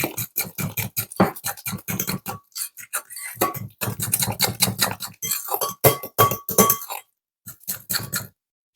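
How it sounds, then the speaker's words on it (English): Fork stirring a coco bread starter in a bowl, rapid close clinking and scraping against the dish in quick bursts with short pauses, loud and busy. "I'm just going to use a fork and stir this in"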